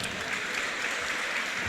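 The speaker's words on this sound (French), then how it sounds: "Applaudissez pour elles quand même." Brief, steady applause from a crowd at a women's lightweight boxing match, a continuous even patter of many hands heard from a distance with no voices over it.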